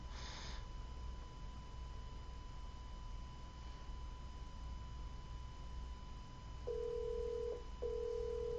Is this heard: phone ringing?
yes